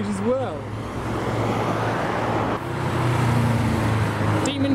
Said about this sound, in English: Now coming up here is a loud Volvo with some kind of stickers on. Sounded turbocharged too.